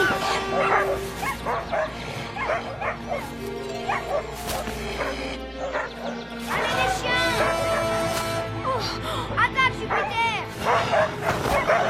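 Several dogs bark and yip excitedly, with some whimpering, in short bursts over twelve seconds while people talk and background music plays.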